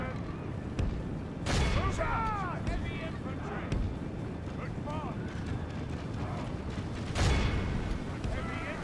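Scattered volleys of troop gunfire crackle in a Medieval 2: Total War battle, mixed with clattering hooves, shouts and battlefield din, while someone talks throughout.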